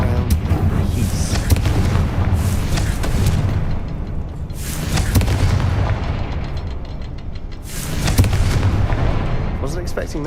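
Booming magical Confringo blasts in Hogwarts Legacy go off in heavy bursts over a sustained rumble, at least three swells across the stretch, with a voice faintly under the din.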